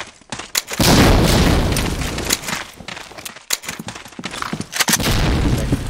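A grenade goes off in Medal of Honor: Allied Assault as a loud booming blast near the start, followed by scattered gunfire and more sharp bangs in bursts.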